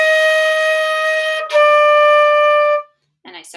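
Two sustained wind-instrument notes, each tongued separately with no slur, the first held about a second and a half, a brief break, then the second held slightly longer, played clearly and alone, followed by a short breath-like noise.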